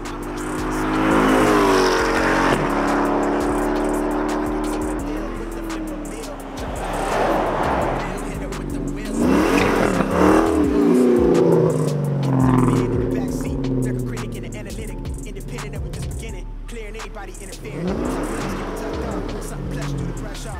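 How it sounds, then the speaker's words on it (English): A Dodge Scat Pack 392 engine revs and roars past in several loud surges, tires squealing, while voices talk over it. "I'm waiting for my boy to come back around with his car."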